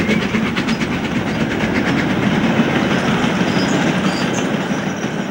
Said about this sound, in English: This is 70029 Shooting Star, one of the former Western Region Britannias.